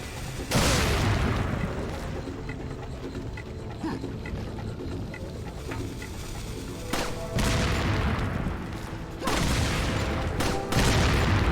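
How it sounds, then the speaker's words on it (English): Gunfire and dynamite blasts from Resident Evil 4 erupt in loud, sharp bursts at the start, around the seven-second mark and near the end, separated by a low rumbling game ambience. "Let's see if we can shoot this dynamite out of his hand this time"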